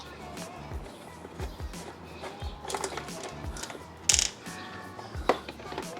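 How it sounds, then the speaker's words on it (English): A T-handle hex key loosens 5 mm hex bolts on the bar end mirror mount of a 2025 Ducati Panigale V2, making soft ratcheting and metallic clicks with a couple of sharper ticks near the end, close by amid background noise. "these bolts are a 5 millimeter hex. I'm just using a T handle."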